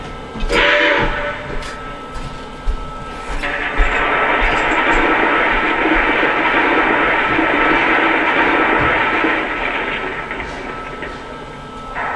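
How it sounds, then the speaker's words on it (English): A Lionel Erie 2-10-4 Texas model steam locomotive's coal refilling sound: a few clattering knocks give way to a long, dense rushing and scraping noise that holds steady, then eases off near the end. "And here's the coal refilling sound."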